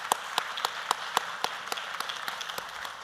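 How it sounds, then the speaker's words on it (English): At a healthcare awards ceremony, a few people clap in a sparse, rhythmic pattern, distinct individual claps spaced about a quarter second apart, fairly faint in a quiet room. "Please give them a huge round of applause."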